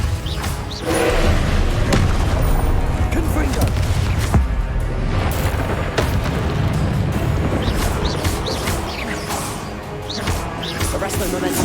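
Repeated Confringo blasting-spell explosions pop and crash in Hogwarts Legacy among other spell impacts, a busy run of booms and thuds with a voice speaking over the combat.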